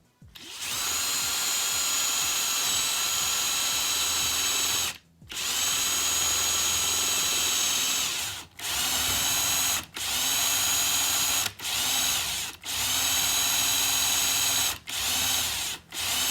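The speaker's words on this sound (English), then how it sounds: "so we'll be able to drill both straps and shouldn't have any problems" A power drill whines loudly in long bursts drilling through metal straps, stopping briefly several times before starting again, close up with no voices.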